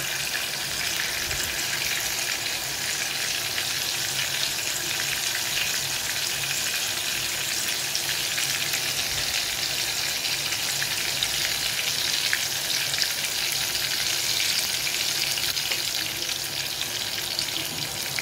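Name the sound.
oil boiling and frying with tomatoes in a pan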